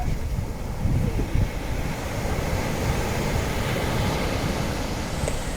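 Ocean waves crash against an endangered shoreline, a steady broadband roar of surf and wind that stays loud and continuous throughout, with no voices.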